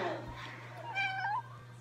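A cat meows once, clear and fairly close, amid a steady low hum, with a person's voice faintly present around it.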